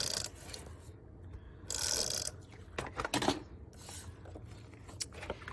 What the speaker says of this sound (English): run adhesive along the front of the cardstock, and I just do 4 strips with my adhesive runner